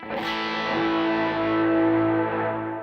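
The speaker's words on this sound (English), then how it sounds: "we're gonna kick on our second stage overdrive" An electric guitar chord rings out through a second-stage overdrive, thick and distorted, sustaining for a few seconds with no voices.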